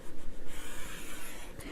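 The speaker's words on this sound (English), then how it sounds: "I'm going to score it at 4 inches." Paper being scored at the 4-inch mark for a handmade book page, a close, steady scratching drag of a tool across the sheet lasting under two seconds, with no talk.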